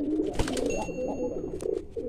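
Domestic pigeons coo softly in a low, rolling murmur, with a few repeated throaty calls close by and no speech.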